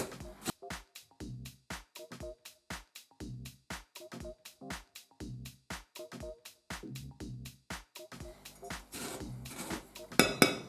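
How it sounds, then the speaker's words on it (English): Rhythmic thumping and squelching repeat steadily as a thick lemon cheesecake mixture is pressed with a potato masher in a bowl, each stroke a short soft impact. "we're going to mash all this together"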